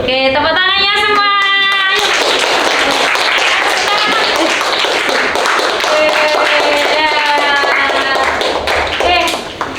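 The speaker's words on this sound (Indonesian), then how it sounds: "Oke, tepuk tangannya semua." Audience applause after a folk tale presentation in a classroom: loud, sustained clapping from a group, with brief bright tones at the start and near the end, ending abruptly.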